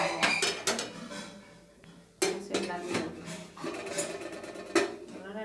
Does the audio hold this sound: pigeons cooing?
no